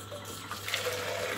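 Water runs and splashes steadily into a pot, a continuous close pouring sound with no voices.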